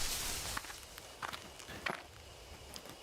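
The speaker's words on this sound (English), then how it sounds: "footsteps are coming" Footsteps approaching in a horror video game set in thick woods at night, a handful of soft irregular steps over a faint hiss of ambience.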